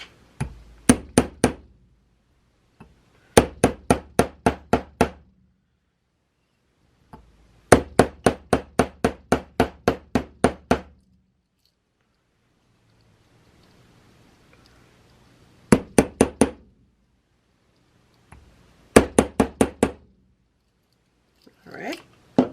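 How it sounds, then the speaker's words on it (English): Rawhide mallet striking metal link ends on a bench block, fast bursts of sharp taps in several rhythmic runs separated by pauses, with quiet rustling between. "the ends of the link with the rawhide mallet on the bench block"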